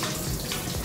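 A kitchen tap runs steadily while hands are washed, a dense continuous water rush close to the microphone for under a second, with no talking.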